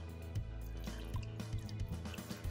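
Boiling water, about 1.7 liters, is poured into a Ninja Foodi Deluxe pressure cooker pot with onions for kare-kare, making a close, steady splashing and bubbling fill with small drips throughout.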